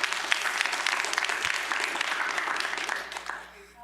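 Audience applause in a workshop auditorium after a climate modeling talk: dense, steady clapping from a sizable crowd, holding loud for about three seconds before thinning out at the end.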